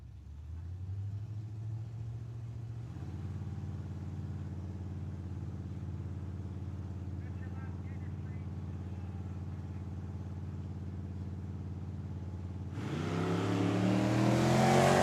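Drag race cars at Tucson Dragway idle loudly with a steady low rumble, then launch with a sudden roaring burst of engine noise near the end, close and powerful.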